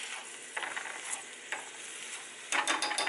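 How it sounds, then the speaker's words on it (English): Ground chicken sautes in a pan, giving a steady, moderate sizzle, with a few louder scraping stirs and a burst of crackling near the end. "so while it's sauteing, it's browning up a little bit"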